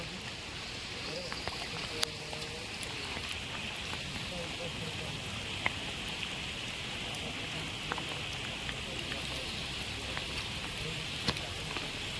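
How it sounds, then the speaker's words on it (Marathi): Rain falls steadily during net fishing for tilapia, a continuous hiss of drops with occasional sharper patters and faint voices in the background. "सध्या पाऊस आहे"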